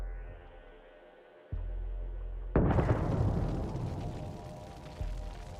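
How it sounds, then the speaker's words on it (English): An MT-LB armored vehicle burning after a kamikaze drone strike erupts in a sudden loud explosion, a sharp blast breaking into a long broad roaring rumble that slowly fades, preceded by a steady hum and a faint thump. "the MTLB catches fire. Although it's not visible from the outside, it explodes just a few seconds later"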